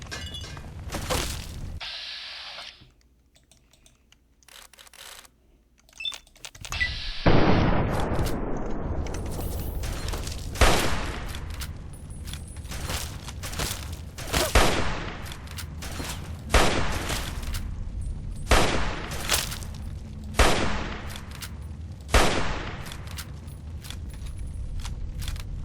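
Gunfire in Fallout 3, after a brief lull a long run of sharp, loud shots and bursts crackling at irregular intervals, some overlapping with shattering impacts, close and forceful.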